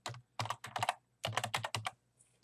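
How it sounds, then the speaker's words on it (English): Keys clatter on a computer keyboard in short clustered bursts of quick taps with brief pauses between, close and fairly quiet. "if I typed in my business name"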